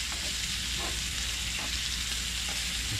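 Bacon frying at 300 degrees Fahrenheit on a Chefman portable electric griddle, a steady dense sizzle and crackle that stays loud and close throughout, with no speech.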